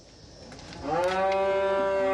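Beef cattle on a farm let out one long, loud moo that rises and holds steady, close by and alone without talk.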